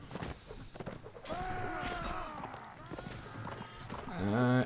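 Horse hooves galloping in the medieval combat game Mount & Blade: Warband, a steady rapid clip-clop under game noise and someone talking, with a horse whinny near the end.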